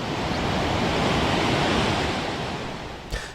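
Southern Ocean surf breaks along the Great Ocean Road coast in southern Australia, a continuous loud roar of waves with wind buffeting the microphone, no voices.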